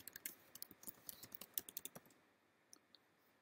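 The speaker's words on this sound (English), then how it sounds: "So I'm going to type in mine now." Someone types a password on a Mac computer keyboard, a quick run of light, crisp key clicks heard close and quiet, then a pause and two final taps.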